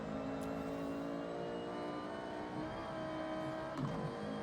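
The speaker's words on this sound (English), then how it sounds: "Easily one of the greatest sounding rally cars ever created." Rally car engine in Forza Horizon 6 droning and revving steadily with layered tonal harmonics, a close, continuous, loud engine note with a brief higher rev surge near the end, no talking.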